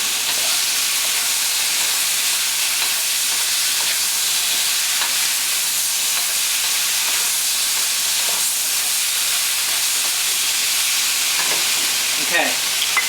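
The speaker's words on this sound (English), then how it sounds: "So you're just going to keep sort of moving this around, basically stir frying it." Steady loud sizzling of beef stir-frying in a hot pan, a continuous hiss with occasional scraping as it is moved around.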